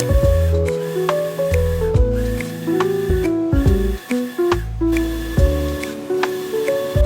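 A printer fitted with a cutting blade whirs and steps through its printing and cutting passes, its motor tones shifting in short stops and starts, close up with no talking.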